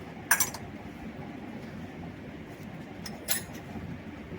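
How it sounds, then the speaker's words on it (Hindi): Metal puja water glasses being emptied and handled give two sharp clinks, one near the start and one about three seconds later, close by over quiet background noise, with no talking. "अब ये भगवान जी के जो सारे ग्लास है पानी के, वो सब खाली कर रही हूँ।"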